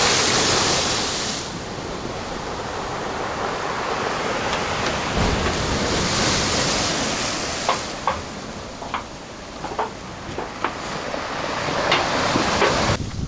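Stormy sea waves crash onto Flamingo beach in a steady, loud roar, with heavy wind buffeting the microphone and sharper surges of breaking surf toward the end, no talk.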